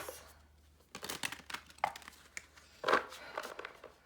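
Tarot cards being shuffled by hand, a series of soft papery riffles and crinkling bursts in irregular rhythm, close and fairly quiet with no talk.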